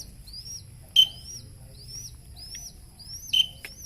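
Cegeh bird being trained, repeating short high rising chirps in a steady rhythm, close and clear, with two sharper louder notes standing out among quieter calls over faint low background noise.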